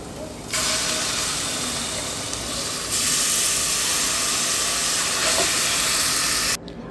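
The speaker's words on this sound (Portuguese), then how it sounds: "agora eu vou estar tá colocando o fígado" Chicken liver hits a hot pan of sautéed onion and garlic and sizzles loudly, a broad steady hiss that swells sharply after a few seconds and stops abruptly near the end.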